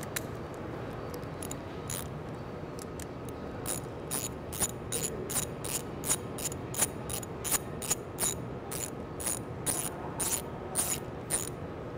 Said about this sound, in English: I'm gonna start off by taking off the coil using a 10 mil and a 3/8 ratchet.